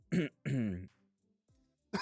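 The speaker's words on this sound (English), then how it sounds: "I got a little tickle in my throat, a little cough right there." A person clears their throat with two quick rough coughs, close and fairly loud, followed by a short pause before speech resumes.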